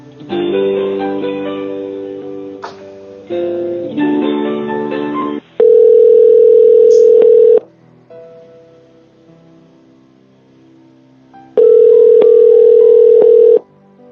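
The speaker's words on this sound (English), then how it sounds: "I'm going to transfer you to someone who can hopefully help you." Telephone line during a call transfer: steady electronic tones in blocks, including a pure sustained dial tone that cuts off, pauses and returns, with chords of dialing tones earlier, loud and close.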